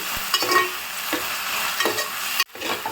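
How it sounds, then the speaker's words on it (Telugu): Gongura flowers fry in a pan for a village-style chutney, a steady close sizzle with scraping stirs of a spatula and a brief dip in the middle. "సిమ్లో పెట్టుకొని ఫ్రై చేస్తున్నాము ఈ పూలు మొత్తం మంచిగా ఫ్రై కావాలి"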